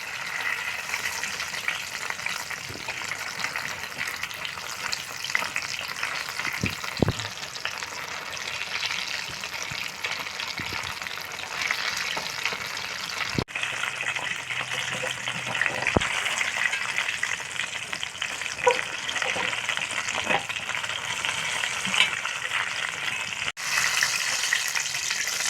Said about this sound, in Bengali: তো বন্ধুরা এই তেলের মধ্যে আমি টমেটোর চপগুলো ছেড়ে দেব।